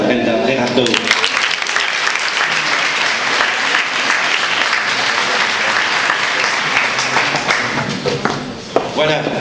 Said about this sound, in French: On va applaudir pour ça, Brenda Berardo.